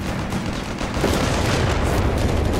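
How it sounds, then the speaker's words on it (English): Artillery barrage in Company of Heroes 3, a continuous roar of booming explosions blending into a dense rumble, growing slightly heavier after the first second. "Artillery barrage on the way."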